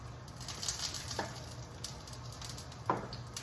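Onions sizzling in a pan over lowered heat, a soft steady crackle and patter with a couple of sharper clicks, fairly faint and close.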